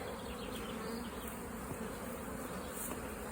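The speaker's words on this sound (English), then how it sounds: "you can see the bees set up fanning" Honey bees fanning at the front of their hives on a spring day make a steady, dense, continuous buzz throughout, close and even, with no voices.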